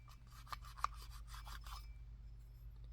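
A twisted bread tie scrapes gunk out of a Harley master cylinder, giving a run of short, faint scratchy rasps over roughly two seconds against a low steady hum, then quiet, with no one talking.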